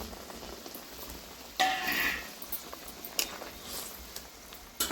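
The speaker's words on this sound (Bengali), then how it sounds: "ঝোল ফুটে গেছে" Crab curry gravy bubbling in a pot on the stove: a soft, steady burble broken by a few louder, splashy bursts, heard close with no one talking.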